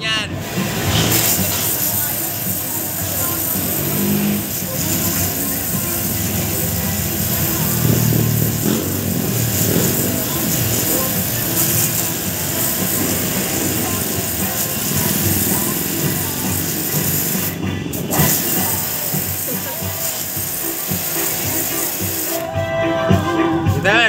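A power pressure washer runs continuously while stripping paint from a motorcycle, a steady droning motor whine with spray noise, with someone talking over it.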